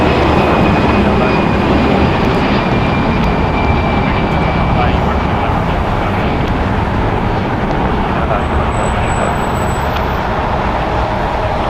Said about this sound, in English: Delta Airlines Flight 1043 going to San Antonio. It's an Airbus A319, 20 years old.